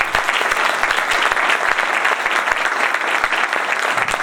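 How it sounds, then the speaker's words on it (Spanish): Loud, sustained audience applause for David, a speaker at an academic conference on Spanish punk, dense clapping filling the room steadily throughout without any voices. "un aplauso muy fuerte para David"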